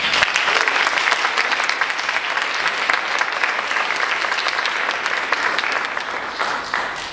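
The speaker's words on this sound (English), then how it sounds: "So I think we really need to give them a big round of applause" Loud, steady round of audience applause for haiku festival teachers, dense clapping from a sizable crowd sustained for about seven seconds.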